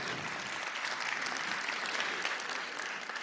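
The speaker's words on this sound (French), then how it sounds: "On peut les applaudir" An audience at a film festival opening ceremony applauds the youth jury of high school students, a steady wash of many hands clapping, fairly distant and even throughout.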